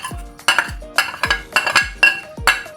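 Metal clinks and scrapes from spices going into a pot of mutton, about six sharp, ringing knocks of a spoon against the pot at a steady pace, loud and close with no talk.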